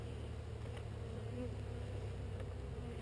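A steady, low insect buzz of many honeybees fills the air, continuous and fairly close, with faint movement sounds underneath.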